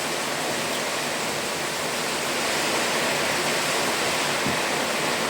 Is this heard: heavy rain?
yes